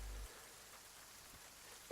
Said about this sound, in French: Il pleut toujours, même si la pluie est quand même beaucoup plus modérée.